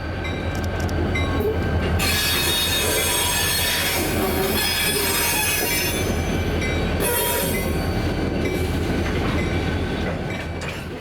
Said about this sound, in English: Local 7 is seen here with a solo SD40N, getting ready to depart south towards Brighton.